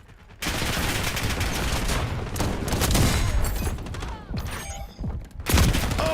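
Rapid bursts of automatic gunfire in Call of Duty, loud and close, with dense rattling volleys that continue for several seconds before breaking into a few separate sharp shots near the end.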